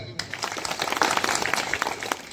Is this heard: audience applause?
yes